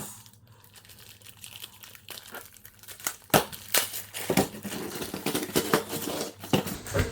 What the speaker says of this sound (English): let's get Edward out in this skinny plastic bag.